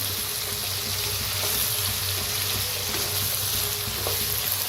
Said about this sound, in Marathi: मीठ घातल्यावर बी जरा हलवून घ्यायचं असं